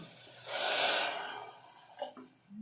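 A glass of water poured into a pressure cooker holding raw vegetables for soup, a single short splashing pour followed by faint drips and small clinks.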